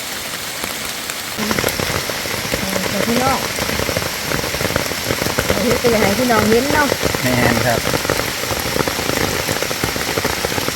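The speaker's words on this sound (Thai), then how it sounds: "โอ้ฝนจะได้จะมาตกหลับอีกแล้ว" Steady rain patters densely on surfaces outdoors throughout, fairly loud and close, while someone speaks over it for most of the clip.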